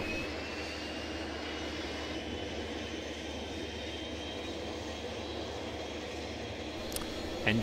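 Engine number 2 of a Dash 7 turboprop starting in a flight simulator, a continuous steady roar with a faint high whine, holding level throughout with a brief click near the end.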